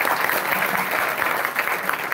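An audience at a kirtan claps in a dense, steady round of applause, close and continuous throughout.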